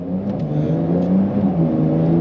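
A Porsche 911 engine pulls hard along the Las Vegas Strip, a loud, steady drone that rises in pitch as the car accelerates, heard up close and continuously with no talk.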